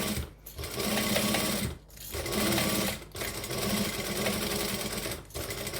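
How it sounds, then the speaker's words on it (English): A sewing machine stitching fabric fringing an eighth of an inch from the edge, running in loud close bursts of rapid stitching separated by three short stops. "So I'm just stitching still 1/8 of an inch."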